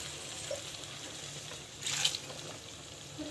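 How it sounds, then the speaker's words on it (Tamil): Water poured into a cooking pot in a village kitchen, a brief splashing rush in the middle of an otherwise quiet stretch. "இதுக்கு தேவையான அளவுக்கு தண்ணி வந்து ஊற்றிக்கோங்க."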